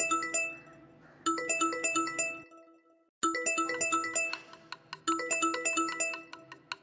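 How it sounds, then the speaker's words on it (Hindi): A phone rings in a family home with a bright, chiming melodic ringtone. It repeats in separate bursts of tinkling notes with short pauses between them, clear and alone. "किसका फोन आया देखना जरा।"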